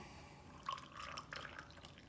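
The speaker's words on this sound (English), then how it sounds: "I'm going to put my water in it." Water is poured into a Costway espresso maker, a soft trickling and splashing of liquid that runs for a couple of seconds, faint and close.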